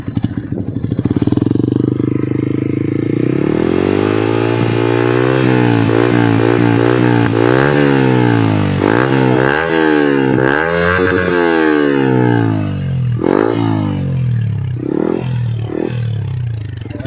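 Yamaha R15 V3 motorcycle with an Akrapovic exhaust and dB killer fitted, revved hard again and again in loud rising and falling sweeps, with sharp backfire pops breaking through near the end.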